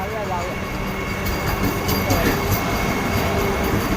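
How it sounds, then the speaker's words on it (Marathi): A Vande Bharat express train rumbles past close by, a steady broadband roar with faint rail squeal, continuous for the whole stretch. "ही बघा वंदे भारत ट्रेन आले"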